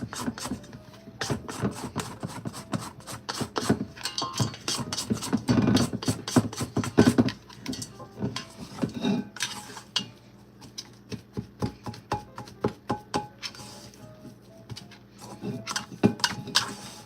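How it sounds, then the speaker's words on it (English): A bowl scraper scrapes and folds thick protein cookie dough in a bowl, giving rapid, irregular scratchy strokes and soft clicks against the bowl, close by and steady with no talking. "Now I'm gonna take a bowl scraper and just give it a couple of nice scrape and folds."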